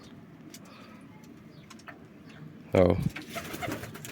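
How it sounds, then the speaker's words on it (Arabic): Pigeons kept on a rooftop in hot weather coo softly over quiet background murmur, then one loud close coo bursts out near the end, briefly overlapped by a man's short spoken word. "بص الحمام تحس ان الحمام معلق مني"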